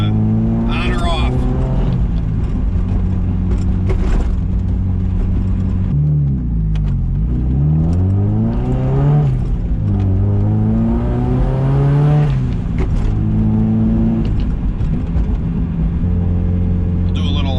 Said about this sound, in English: We'll do a little third gear rip here, make sure the tune is good.